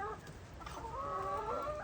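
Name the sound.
rooster on a farm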